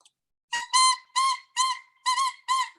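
Short squeaky, whistle-like bursts from an oboe reed played on its own, five separate tones with brief gaps between them, fairly close and clear, with no voices.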